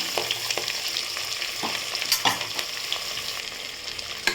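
Chopped onion and green chilli sauté in a hot oiled pan for capsicum biryani, giving a steady close sizzle broken by sharp scrapes and clicks of stirring, with no voice.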